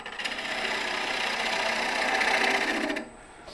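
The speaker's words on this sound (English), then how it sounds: "This is a push cut straight into the headstock" A wood lathe spins a bowl blank as a push cut reduces the tenon cylinder toward the headstock, giving a steady whirring, buzzing hum that cuts off sharply near the end, close and alone.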